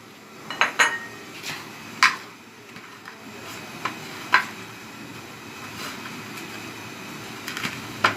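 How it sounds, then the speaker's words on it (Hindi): A spoon clinks against a bowl while vinegar is mixed into spice masala for a mango and lasoda pickle, giving scattered sharp taps and scrapes over a faint hiss, fairly close and moderate in level. "3 चम्मच सिरका है जो हम इस मसाले के अंदर डाल देंगे और इस मसाले को मिक्स करेंगे।"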